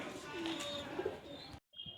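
A female pigeon coos softly and briefly over background noise, followed by a short gap and a faint rustle.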